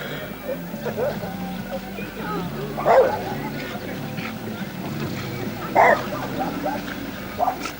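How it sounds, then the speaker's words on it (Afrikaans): A dog barks a few times at a riverside spot during a white-water rafting trip on the Orange River; the short barks come in spaced bursts under people talking and calling out. "Pas die hond gaan jou tyre byt."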